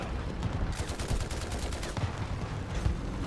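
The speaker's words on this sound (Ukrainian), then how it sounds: "я зараз просто кудись стріляю, кудись попало" Rapid bursts of game gunfire crackle in quick succession, sharp repeated shots at moderate volume with no talking.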